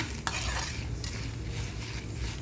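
Coconut and urad dal fry in a pan, giving a dense, steady sizzle with sharp scraping clinks of a spoon stirring against the metal, close and continuous.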